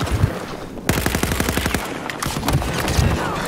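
Automatic gunfire in a video game, close and loud: a fast burst of evenly spaced shots, then a second shorter burst amid noisy game sound.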